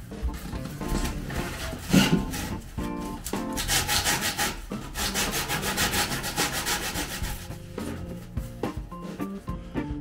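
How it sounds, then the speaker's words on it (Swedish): A plastic propeller mount is sanded by hand with sandpaper in quick, close, repeated rasping strokes, with short pauses between bursts. "jag måste slipa rent här igen sen"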